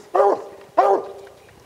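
Two loud, close barks from a hunting dog at a treed lion, a short pause between them, the second trailing into a faint whine.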